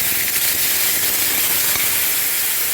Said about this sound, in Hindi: आलूओं में हमारा तड़का लग गया।